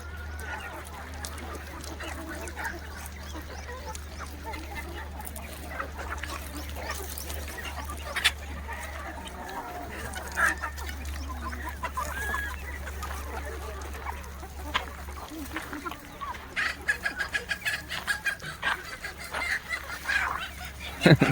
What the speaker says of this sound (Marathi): सर्व कोंबड्यांची धिंगाणा मस्ती भी चालू राहते सकाळी सकाळी.